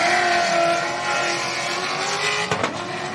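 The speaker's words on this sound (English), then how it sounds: "Number 1 off the line on the twin turbo V12." A twin-turbo V12 race car with about 9,000 horsepower launches off the line at a racing event, a loud sustained engine roar with a sharp burst near the end, heard alone without talk.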